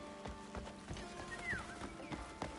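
Horse hooves clip-clopping in the Crimson Desert video game, a steady rhythmic trot of hoof strikes at close range, with a faint tonal background underneath.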